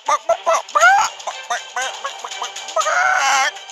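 A person vocally imitating a chicken's clucking, a run of loud, close, nasal squawks and bursts in an uneven rhythm, ending in a longer drawn-out cluck.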